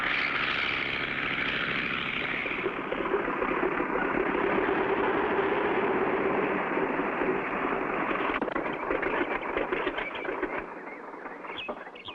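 A propeller airplane drones steadily as it comes in to land in front of a barn, a loud continuous engine roar that gradually eases off toward the end.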